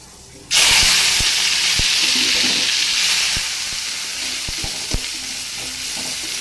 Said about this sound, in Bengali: এবারে কড়াইয়ে কালো জিরে ফোড়ন দিয়েছি, এবার লাল শাকটা দিয়ে দেব।